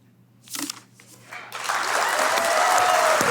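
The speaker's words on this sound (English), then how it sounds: "Big round of applause." Audience applause at a design talk, starting with a few scattered claps and swelling after about a second and a half into steady, dense clapping, with cheering or voices mixed in.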